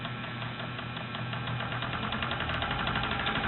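A wood lathe runs at slow speed with a tigerwood bowl mounted, giving off a steady low hum and faint rhythmic vibration, close and continuous.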